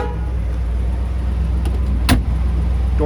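A single dull thump near the middle, a 1957 Ford Thunderbird door shutting, over a steady low engine-like rumble.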